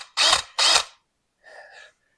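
An electric drill bores holes while fitting an electric fan to a Mini, with two brief, loud, close whirring bursts in quick succession followed by a fainter short whine.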